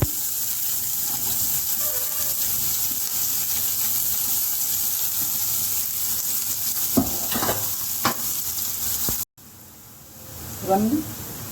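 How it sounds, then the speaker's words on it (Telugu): Chopped onion pieces hit hot oil in a pan and crackle with a continuous, fairly loud sizzle, with scraping knocks of a stirring spoon. The frying cuts off abruptly near the end, and a person speaks over it. "ఇప్పుడు కోసి పెట్టుకున్న ఉల్లిపాయ ముక్కలు వేస్తున్నానండి"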